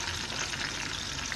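A spoon stirs blended tomato, garlic and ginger in a pot for a Cameroonian hot pot, giving a steady, close sizzling and wet churning that runs without pause.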